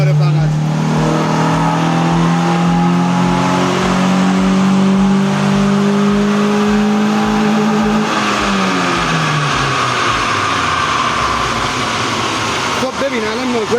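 A tuned car engine revs during a test run: repeated low exhaust pulses beneath a loud rising whine that climbs steadily, then drops off, with steady road or cabin noise throughout.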